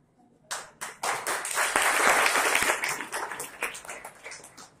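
A small group at a Mithila painting institute claps, starting with a few scattered claps that swell into a fuller round of applause, then thin out into lighter, uneven claps.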